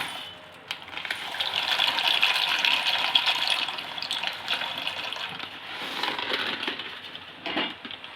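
Pasta being added to a pot of boiling water while cooking a pasta recipe, heard as a steady bubbling, hissing boil close by with a sharper splash and crackle near the end, and no talking.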